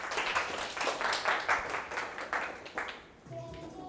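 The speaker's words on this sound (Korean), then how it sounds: "큰 박수 부탁드리겠습니다" An audience at a business strategy seminar applauds as the next presenter is brought up, with dense clapping that thins and fades toward the end before a voice begins.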